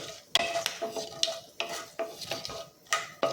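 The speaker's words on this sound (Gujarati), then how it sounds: "બધા જ વઘારને આપણે અહીંયા સરસ રીતે સાતરી લઈશું।" A utensil scrapes and clinks against a pan in a steady stirring rhythm as whole spices, including cloves, sizzle softly underneath.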